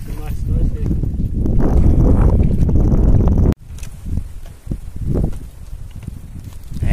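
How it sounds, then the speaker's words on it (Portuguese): Strong wind blows outdoors at a lake on a stormy fishing trip, roaring and buffeting the microphone in loud gusts, easing after a sudden cut, with scattered knocks and movement. "Olha a situação do vento."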